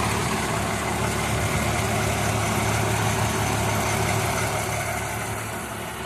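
A 1965 Ford Mustang fastback engine idles steadily and close, a continuous low rumble with an even throb, no voices over it, easing slightly quieter at the very end.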